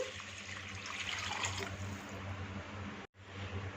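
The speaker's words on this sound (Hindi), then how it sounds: "इसके साथ ही इसमें 1 लीटर पानी, तकरीबन 4 गिलास बनता है, ये शामिल कर देंगे।" About one litre of water pours steadily into a pot for vegetable corn soup, a continuous close splashing rush that briefly cuts out and then resumes.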